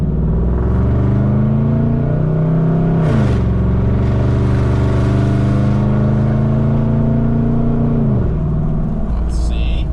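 A Chevrolet Silverado 5.3 V8 with true dual catback straight pipes revs loudly, its deep exhaust climbing in pitch, holding a choppy high note, then dropping back to a rumbling idle, close and dominant.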